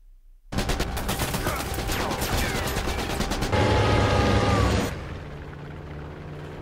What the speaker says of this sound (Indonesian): si Atami ini yang ngeliat pesawatnya langsung melancarin tembakan.